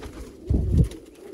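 Pet pigeons or doves giving a short, low, throaty coo, close and clear, one soft burst lasting under a second with quiet surroundings and no talking.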